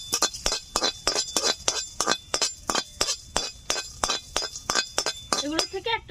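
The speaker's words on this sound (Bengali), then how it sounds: "এগুলো শুকনো খোলায় একটু ভেজে নিচ্ছি।" Cinnamon, cumin, coriander, cardamom and cloves dry-roast in an oil-free pan, stirred with quick, evenly spaced metallic clinks and scrapes, about three strokes a second, close and crisp.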